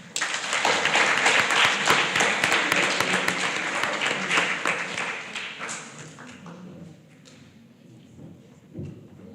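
Applause from an audience at a Grade 7 primary school prize giving ceremony, a loud dense burst of clapping that holds for several seconds, then thins out and fades to scattered claps.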